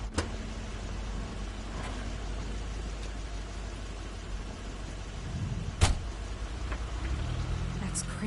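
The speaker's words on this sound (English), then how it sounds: "That's Crane's car." A car pulls up in the video game The Wolf Among Us, its low engine rumble building near the end over a steady background hum with a brief knock midway.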